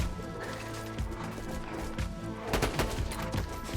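Grenade blasts and gunfire in the shooter Borderlands 2, used against rabbits, with a continuous dense wash of impacts and explosions that swells louder near the end, close and loud with no one talking.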